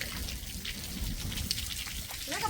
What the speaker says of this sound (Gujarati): ધોધમાર વરસાદ હિંબર ગામની અંદર।